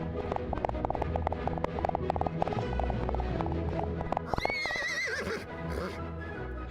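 A horse in a radio play gallops with fast, rhythmic clip-clop hoofbeats under a busy music bed, then gives a loud, wavering whinny near the end.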